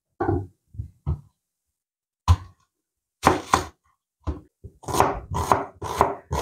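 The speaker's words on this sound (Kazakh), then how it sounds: "Алдымен ол үшін пиязымызды турап аламыз." A knife chops onion for samsa filling on a board in separate close, sharp bursts of rapid strokes. The cutting comes sparse at first, then denser toward the end, with silence between bursts and no talking.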